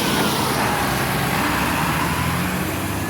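Low-floor city bus in Joinville, Brazil, its engine running with a steady, loud mechanical drone and broad rumble, continuous throughout with no talking.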